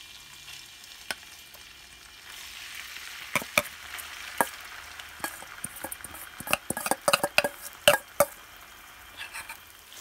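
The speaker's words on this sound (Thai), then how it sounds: "ก็ใส่น้ำมัน เยอะหน่อย แล้วก็จะใส่พริกผัดพริกกับกระเทียมนะคะ" Chili and garlic stir-frying in plenty of oil in a pan for Thai holy basil paste: a steady soft sizzle under irregular clicks and scrapes of a utensil against the pan.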